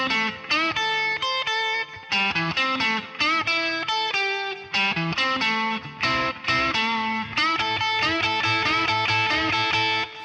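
Electric guitar with distortion and effects plays a run of blues licks, full of string bends and quick triplet phrases, loud and continuous with short pauses between phrases and no talking.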